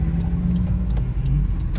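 A car driving in heavy traffic on a tree-lined ring road in Guatemala, with a steady low engine hum and road noise from inside and faint ticking above.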